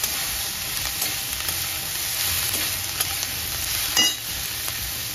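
Masala with coriander sautéing in a hot pan: a steady, close hiss of frying holds throughout, with faint stirring scrapes and a small clatter near the end, and no talking.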